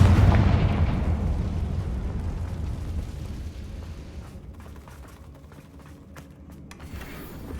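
A Confringo fire spell explodes in the Hogwarts Legacy game, a heavy rumbling blast that starts loud and slowly fades into a crackling, debris-like tail.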